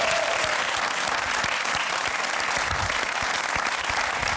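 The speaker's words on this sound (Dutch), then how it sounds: "daar wou ik toch nog wel eventjes een extra applausje voor" A studio audience at a Dutch television talk show gives a sustained round of thick, even applause, loud and continuous throughout.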